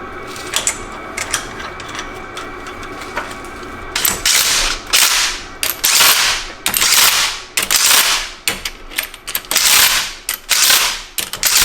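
A ratchet wrench clicks in short bursts while tightening axle bolts on a Ford F250 Dana 60 axle to 110 foot-pounds, with quieter ticks at first, then loud, rhythmic ratcheting strokes repeated several times up close.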